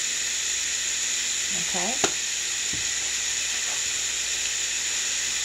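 A seasoned boneless pork chop with paprika, black pepper and thyme sizzles steadily in a hot pan, a constant bright hiss throughout, with a brief clink and a short spoken word partway through.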